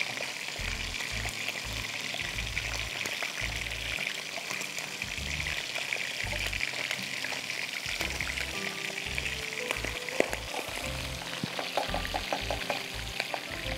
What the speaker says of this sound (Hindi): बादाम बिल्कुल हल्के से फ्राई करके फिर निकाल दीजिएगा बहुत जल्दी ये ब्राउन हो जाते हैं